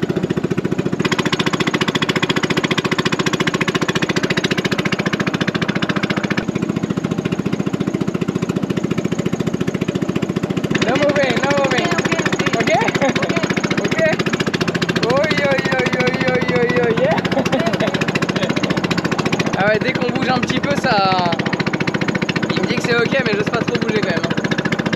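Loud, steady engine drone of a fast-moving motorboat running across water among small islands in Laos, continuous throughout with people talking over it.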